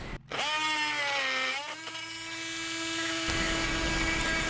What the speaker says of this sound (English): A multi-tool is pretty much indispensable for a job like this.